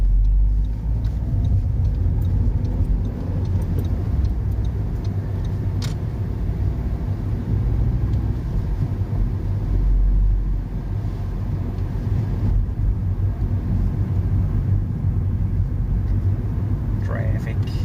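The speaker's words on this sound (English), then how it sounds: "Traffic." Road traffic rolling past steadily and fairly loud, a continuous low rumble of cars that swells and eases across the whole stretch with no clear gaps.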